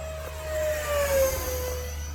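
A radio-controlled jet plane makes a low pass overhead, its steady turbine whine rising and then falling slightly in pitch as it passes close by.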